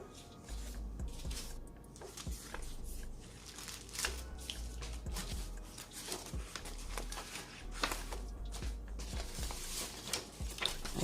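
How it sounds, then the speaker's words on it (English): Scraps of paper handled and sorted by hand, soft rustles, crinkles and light flicks coming in quick irregular bursts, close and quiet over a low background hum. "I'm picking pieces of paper that I know that I want to save."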